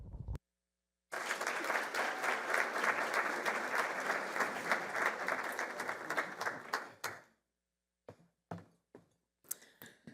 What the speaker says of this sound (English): I think y'all can give me a better warm round of applause than that